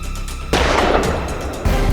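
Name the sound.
gunshot sound effect in courtroom drama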